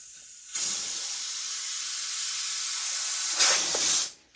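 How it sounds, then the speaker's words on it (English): Compressed air hisses into a motorcycle inner tube during an MX tire swap to a paddle tire, a loud steady rush lasting about three and a half seconds, briefly surging louder before cutting off. "now what I do is put air in the tube and try to get this straight."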